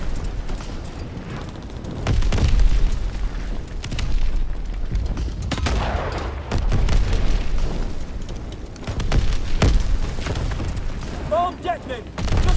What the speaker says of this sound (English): Bomb detonated! Just one more on that cannon!